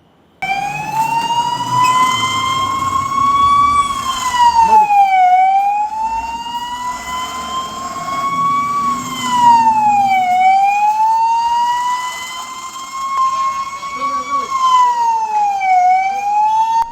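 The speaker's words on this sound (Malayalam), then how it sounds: "Kundara Vellimon government UPSലാണ് siren മുഴങ്ങിയത്." A loud civil defence mock drill siren sounds at Kundara Vellimon Government UPS, wailing in long, slow rising and falling cycles for the whole stretch, close and dominant with no talk.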